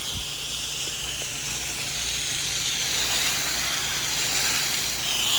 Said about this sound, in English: I'm spraying up there, there's a lot of overspray and it gets on my face